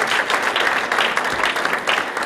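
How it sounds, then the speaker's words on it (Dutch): Audience at a business award event in Genk applauds loudly and steadily, a dense crowd clapping alone without speech. "Applaus voor jezelf."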